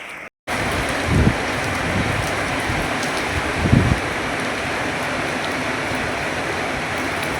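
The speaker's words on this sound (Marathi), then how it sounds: "पाहू शकता किती जोरदार पाऊस आहे" Heavy rain in Kalyan pours in a steady, dense hiss, with a couple of low thumps rising briefly above the constant downpour.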